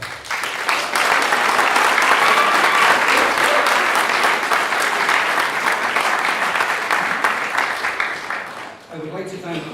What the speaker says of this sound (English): so I want to give Mary Ellen a round of applause